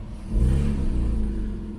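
A Porsche Cayman 987 engine revs briefly when the accelerator is pressed, a close low rumble that swells and then settles back to a steady idle, with no talking.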